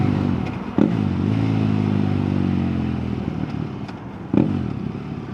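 A Harley motorcycle rumbles alongside on the road at around 60 mph, a steady low engine drone mixed with wind noise and a couple of sharp clattering knocks.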